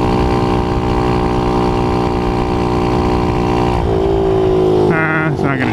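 A Kawasaki KLX 110 pit bike runs with no air filter and a wide-open exhaust, a loud, steady buzzing engine note that drops in pitch and then revs up again near the end, with a rider talking over it.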